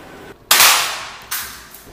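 Two sharp, snappy shots from a spring airsoft Glock pistol about a second apart, each a close, bright crack that quickly fades, with no talking.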